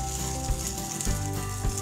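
Beaten egg frying in a pan on low heat for a crispy karandi omelette, giving a close, continuous bubbling sizzle with a few soft stirring bumps and no talking.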